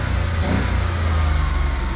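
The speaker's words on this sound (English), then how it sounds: "This one, let's give it a little rev." A Suzuki kei van's three-cylinder engine is given a brief rev, a close, loud motor hum that swells and settles.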